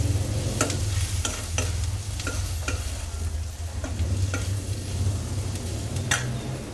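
Onions and capsicum stirred with turmeric in a hot pan, a steady sizzle of frying under repeated scraping strokes of a spoon against the pan, close and continuous.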